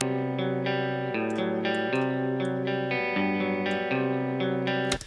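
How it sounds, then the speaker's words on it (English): Clean electric guitar chords ring out through a lush reverb, sustained notes blending and shimmering, with a sharp cutoff at the end. "Let's check out this rock reverb."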